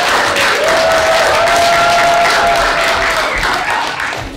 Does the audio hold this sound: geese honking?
no